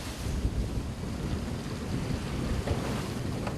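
Rough, heavy sea waves surge around a fishing boat hauling flounder nets, giving a constant churning wash with wind buffeting the microphone and no voices.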